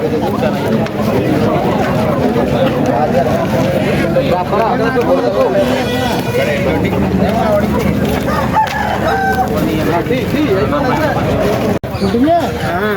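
A rooster crows amid the busy hubbub of a Saturday country chicken market in Mamidada, with constant crowd chatter and bargaining voices around it.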